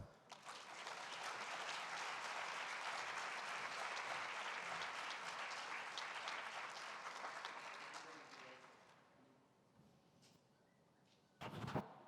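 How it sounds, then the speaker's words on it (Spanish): Sustained crowd applause welcoming a presenter at an inclusive education talk, dense and steady for about eight seconds before thinning out, then a brief loud burst near the end. "pido un aplauso para él"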